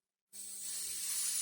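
After a short silence, a lubricant spray can sends a steady, close hiss that holds unbroken and slowly swells for more than a second while work goes on around a wheel. No one speaks.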